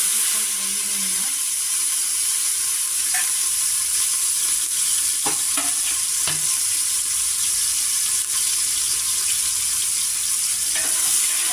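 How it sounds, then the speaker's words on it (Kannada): Onions fry in oil in a pressure cooker with a loud, steady sizzle throughout, and a few faint clinks of a utensil come through now and then. "ಇವಾಗ ಮೊದಲಿಗೆ ನಾನು ಈರುಳ್ಳಿನ ಹಾಕ್ತಾ ಇದ್ದೀನಿ."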